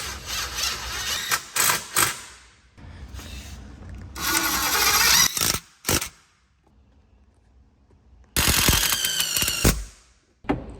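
A power driver runs a self-tapping screw into a golf cart's metal frame to bolt the seat down, sounding as several short whirring bursts separated by pauses, with a longer grinding run near the end.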